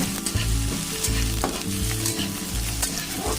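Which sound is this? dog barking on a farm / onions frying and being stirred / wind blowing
onions frying and being stirred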